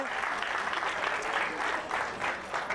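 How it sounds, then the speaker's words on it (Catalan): Audience applauding the winning school groups at a Terrassa school spelling contest, a steady wash of many hands clapping at moderate distance, continuous for the whole stretch. "Aplaudiu-los amb ells també"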